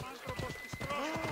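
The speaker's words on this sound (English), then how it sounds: "I almost hit my horse." A horse in the video game Assassin's Creed Odyssey snorts and stamps close by in a short, busy burst of hoof clatter and breathy animal sounds, with a voice talking over it.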